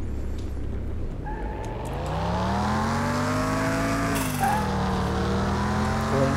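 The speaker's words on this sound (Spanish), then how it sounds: "Cómo mola cuando suena el turbo," Mitsubishi Eclipse engine in Car Mechanic Simulator 2021 revving up with a rising, harmonically rich tone, then dropping pitch as a brief hissing turbo blow-off whoosh cuts in around the gear change, loud and continuous with no talk.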